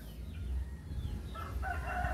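A fighting-breed rooster crows near the end, a short, fairly clear call over low background rumble, with no talking.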